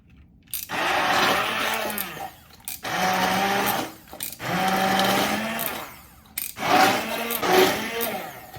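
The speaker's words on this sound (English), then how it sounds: "We have to blend this now" A blender whirs in four loud bursts separated by short pauses, its pitch shifting as the tomato soup churns.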